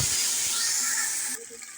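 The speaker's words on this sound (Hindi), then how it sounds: "अब हम पानी डाल देंगे।" A sharp, steady hiss of water poured into a hot pan of fried salt for cooking rice, sizzling loudly for over a second before dropping off, with faint clinks at the end.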